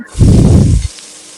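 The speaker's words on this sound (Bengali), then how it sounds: "আমি আস্তে আস্তে পেঁপেকে মানে ভেজে ফেলছি" Pieces of raw papaya drop into a hot oiled pan and burst into a loud, close sizzle that lasts under a second before dying back to a faint hiss.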